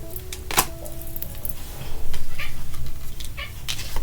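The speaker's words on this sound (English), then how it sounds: "Even Marley, Marley, my cat, agrees." A domestic cat lets out a sharp meow near the start, then quieter cat sounds follow over a steady, noisy indoor background.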